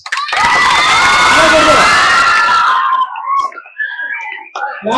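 Schoolchildren at a high school felicitation ceremony for their headmaster burst into loud cheering and shouting with clapping, fading after about three seconds into scattered voices.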